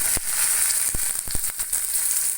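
Small shallots dropped into hot oil after mustard seeds have popped, a steady bright sizzle with a few sharp crackles and pops scattered through, close and continuous with no talk.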